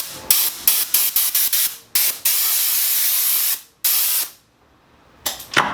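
A spray can hisses in quick short bursts over a shadow box frame, then in two longer steady blasts, close and loud with no talk.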